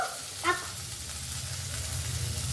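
Coriander powder masala frying in hot oil, a soft steady sizzle with a brief clatter or bark-like knock near the start, close and alone.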